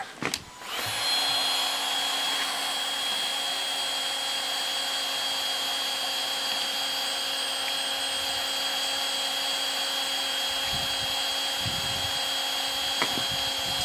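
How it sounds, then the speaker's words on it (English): A heat gun runs on plastic of a Windrider Rave pontoon during a repair, a loud, steady, close whirring blower tone after a brief start-up, continuing unbroken with faint knocks in the background. "once you've sanded it, put the heat gun and it gets the blue back out"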